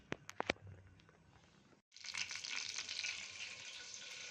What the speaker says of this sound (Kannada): ಜೀರಿಗೆ, ಮೆಂತ್ಯ ಹಾಕ್ತಾಯಿದ್ದೀನಿ. ಇದೆಲ್ಲ ಸ್ವಲ್ಪ ಚಟಪಟ ಅಂತ ಸಿಡಿಲಿ